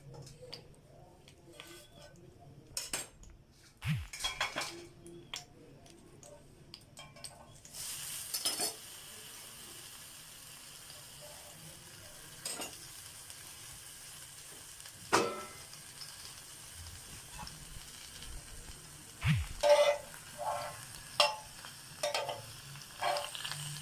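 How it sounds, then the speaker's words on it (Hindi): Barbecued chicken leg pieces, taken off skewers, sizzle in oil on a hot tawa; a low, continuous frying hiss sits under sharp scraping and clanking of a utensil against the pan, with occasional louder stirring knocks. "सीखों से निकाल के इसके ऊपर डालते जाएंगे तवे के"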